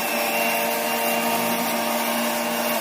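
A mixer grinder grinds homemade chili powder, a steady high-pitched motor whine with grinding noise, loud, close and continuous, with no talk.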